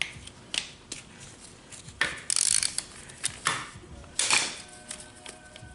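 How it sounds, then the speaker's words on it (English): A hand ratchet clicks in short, close bursts while bolts are loosened from a Hayabusa motorcycle transmission case, with metallic handling clinks between the bursts. "Just take a ratchet."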